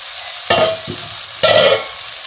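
Bottle gourd and shrimp curry, cooked with green chilli, mustard and bay leaf, is stirred in a pan in two loud bursts of scraping with a quieter scrape between, over a steady low sizzle.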